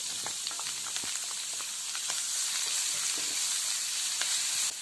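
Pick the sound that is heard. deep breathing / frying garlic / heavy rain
frying garlic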